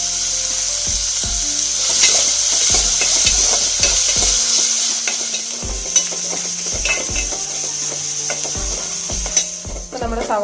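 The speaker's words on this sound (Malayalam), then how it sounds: "നമുക്കിത് നല്ലതുപോലെ വഴറ്റിയെടുക്കാം" Onion, green chilli and curry leaves sautéing in a pan for a green gram curry, a loud continuous sizzle with repeated knocks and scrapes of a wooden spatula stirring, close by and without voices.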